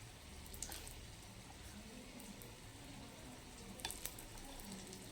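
Mini batata vadas fry in hot oil with a faint, steady bubbling sizzle, broken by a few light clinks from a utensil.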